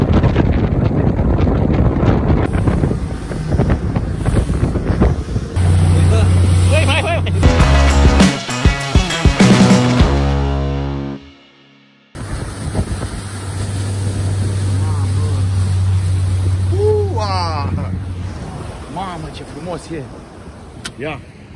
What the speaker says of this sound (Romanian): Intră cu barca mea.